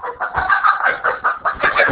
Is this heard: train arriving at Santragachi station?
no